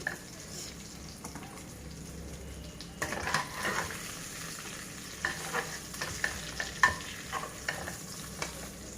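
Marinated tandoori chicken legs frying in a pan give a low, steady sizzle, with scattered clinks and scraping bursts in the second half and no talk.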